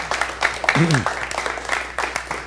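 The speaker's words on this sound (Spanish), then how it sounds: "Un aplauso para nuestro periodista." Studio audience clapping for a journalist on a Peruvian interview show, a short burst of scattered applause with a voice speaking over it.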